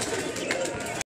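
Pigeons cooing close by in one short burst, soft and throaty, with a voice speaking over it.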